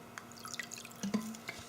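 Water trickles into a glass container on a lab bench, with close, sparse drips and small bright plinks and gurgles over a quiet background.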